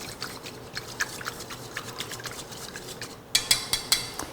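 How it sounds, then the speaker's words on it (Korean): Egg yolk is whisked into cold water for tempura batter, light rapid clicking and scraping of a utensil against a bowl, quiet and close, with a few sharper taps near the end. "달걀 노른자를 풀어서 이 찬물에다가 섞어 줍니다"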